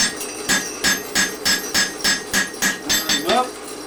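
Hammer blows ring out on steel at an anvil while a flint-and-steel fire striker is hand forged, about ten sharp metallic strikes in a steady, even rhythm, close and loud, with no talking.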